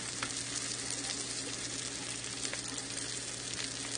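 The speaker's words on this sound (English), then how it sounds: "They already smell really good cooking in this bacon fat." Brussels sprouts sizzle and fry in bacon fat in a pan on the stovetop, a steady, dense crackle that holds close and even throughout with no talking.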